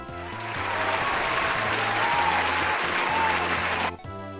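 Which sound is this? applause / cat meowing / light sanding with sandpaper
applause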